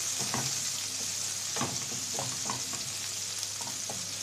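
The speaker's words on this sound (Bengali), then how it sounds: "পেঁয়াজ কুচিটা একটু লাল লাল করে ভেজে নেব" Chopped onions fry in a pan, an even sizzle hissing throughout, broken by repeated short scrapes of a spoon stirring, close and with no talking.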